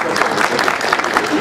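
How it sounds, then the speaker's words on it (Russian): A lecture audience claps together at a talk on foundations of historic St. Petersburg buildings, a dense, even patter of many hands that holds steady and fairly loud for the whole moment. "Разрешите ваши аплодисменты"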